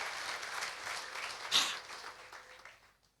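A church congregation applauds during a Sunday sermon, a dense wash of clapping that swells briefly near the middle and then fades out toward the end.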